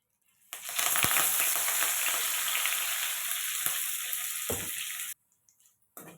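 Bitter gourd frying in hot oil, a loud close continuous sizzle lasting several seconds with a few stirring knocks, then stopping abruptly into near silence.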